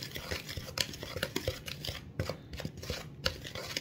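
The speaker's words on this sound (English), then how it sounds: "I'm just gonna take it and I'm gonna whisk this around" A plastic whisk beats cookie batter in a bowl, giving quick, irregular clicks and taps against the sides, close up and fairly loud with no talking.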